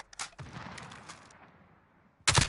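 Bursts of gunfire in Call of Duty: Modern Warfare, a few sharp shots at the start, then a loud close volley at the end over a fading noisy tail.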